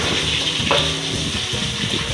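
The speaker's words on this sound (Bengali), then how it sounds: "কত সুন্দর মাছ ভাজতেছি" Fish frying in hot oil in a kadai, a dense continuous bubbling sizzle heard up close, with a brief brighter burst partway through.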